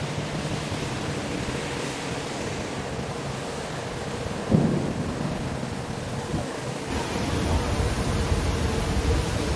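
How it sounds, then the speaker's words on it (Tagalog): Dense, loud rain roars continuously at a mall, a broad hissing downpour that swells slightly louder toward the end, with a faint thump midway. "Ay, grabe ang ulan guys."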